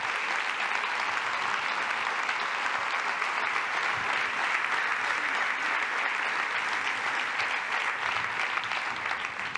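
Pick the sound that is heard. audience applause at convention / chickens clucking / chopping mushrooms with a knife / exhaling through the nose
audience applause at convention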